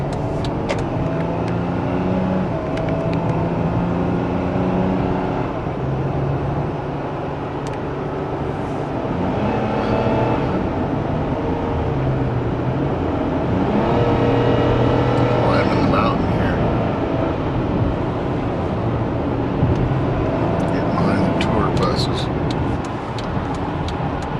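Steady car traffic on the main highway between Southern California and Las Vegas, a continuous engine and road rumble with vehicles passing, heard from inside a moving car while someone talks over it.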